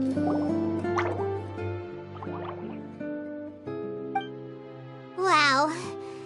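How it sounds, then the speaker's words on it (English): In Genshin Impact, a water droplet drips as a series of bright, close plinks with a liquid gurgle near the end, while a childlike character voice talks throughout. "it sounds like a water droplet is on the second floor"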